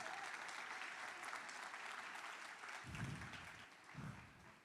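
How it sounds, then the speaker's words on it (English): Audience applause for a woman invited up on stage at a real estate team event, a dense continuous round of clapping with a couple of low thumps near the end. "Give her a round of applause."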